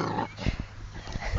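A Labrador puppy gives short, low, throaty growls and snorts in a quick broken rhythm while playing and attacking knees, close and moderately loud, with no talking.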